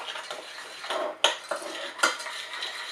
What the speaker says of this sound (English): So I'm just mixing that round. I'm going to add a bit more butter.